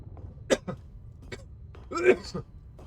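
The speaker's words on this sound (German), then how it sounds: "Hust." A few short, sharp coughs and throat-clearing bursts from a nearby voice, scattered across a quiet background, with one louder, rougher cough toward the end.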